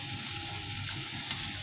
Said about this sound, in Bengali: ওই তেলের মধ্যে সর্ষে ফোড়ন দিয়ে এই আমের ঝোলটা বসিয়ে দিয়েছি